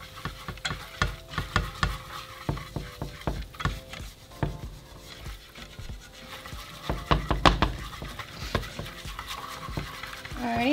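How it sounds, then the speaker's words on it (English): Three tablespoons of flour stirred into hot oil in a pan for a burrito sauce: rapid repeated scraping and knocking strokes of a utensil over a soft sizzle, close up, with a slight tonal hum in the background. "once our oil is hot, we're going to add 3 tablespoons of flour. We're just going to mix it with our oil."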